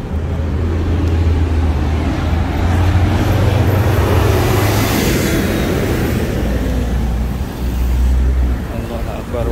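Cars drive through a tunnel beneath Masjidil Haram in Makkah, a loud, continuous roar of traffic with low engine hum swelling and fading as vehicles pass, echoing in the enclosed space.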